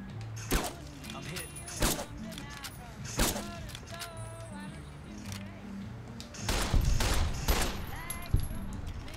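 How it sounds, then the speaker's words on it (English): Gunfire in the video game Fallout New Vegas, several sharp loud shots spaced irregularly with mechanical clicks and a denser burst near the end, mixed with game sounds and some talk. "someone might have heard that shot"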